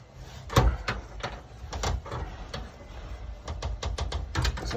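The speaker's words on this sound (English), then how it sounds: "Sometimes you get that creaking sound" A brass cable gland being tightened onto SWA armoured cable gives a series of short, dry creaks and clicks, close and irregular, a few coming in quick bursts.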